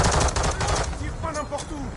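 Rapid automatic gunfire in Call of Duty MW II DMZ, dense bursts of shots up close with whistling and pinging effects mixed in, and a voice speaking faintly underneath.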